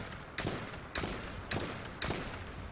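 Perforator gun in The First Descendant fires four heavy, evenly spaced booming shots roughly half a second apart, each a loud broadband crack with a rumbling tail, no voices.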